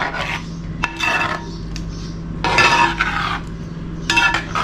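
A spoon scrapes and stirs rice cooking in milk with cumin and salt in a pan, heard up close as several rasping strokes in separate bursts with short pauses between them.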